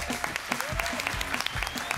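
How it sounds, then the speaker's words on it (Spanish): A television studio audience breaks into continuous applause for a guest, a dense, steady wash of clapping with some voices and cheers mixed in underneath. "Un aplauso para Isabel Coixet."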